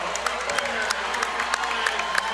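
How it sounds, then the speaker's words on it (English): A basketball crowd at a high school boys varsity game cheers and claps steadily, a dense wash of applause with sharp individual claps popping through, while a voice talks over it. "That wakes the crowd up in a big way."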